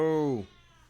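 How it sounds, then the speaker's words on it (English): A pet cat lets out a single loud, close meow that falls in pitch and fades quickly. "You're the loudest cat in the world?"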